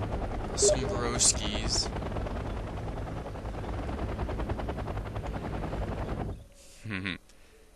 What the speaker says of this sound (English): he's got some recon helicopters